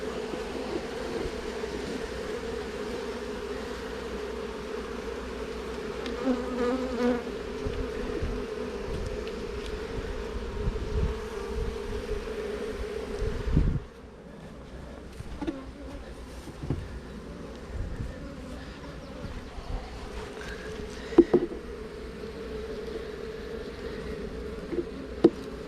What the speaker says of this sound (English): We just want to move over the last remaining bees.